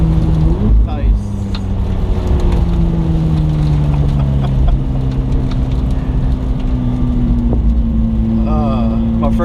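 A McLaren 675LT engine drones and shifts pitch on a ride during Monterey Car Week, with loud cabin and road noise, rising and falling tones, and people talking over it.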